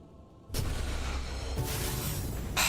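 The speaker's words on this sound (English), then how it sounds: "Literally the ant cannon's firing." A broadband, sustained burst of cannon fire from an ant cannon unit in the strategy video game Age of Wonders 4, loud and continuous with booming low end and rumbling, layered blasts, with no talk.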